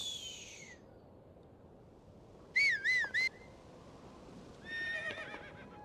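Horse in Zelda: Tears of the Kingdom giving a wavering high whinny, then a softer whinny a moment later over quiet game ambience, with faint hoof clops and a brief whistle-like call at the start.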